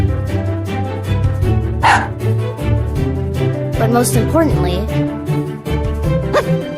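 A robot dog toy yaps and barks electronically in short bursts, heard under a speaking voice that runs across most of the moment.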